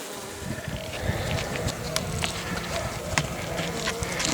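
A young honeybee swarm drones in a dense, continuous buzz close by, with a steady hum layered with brief sharper buzzes from individual bees flying past.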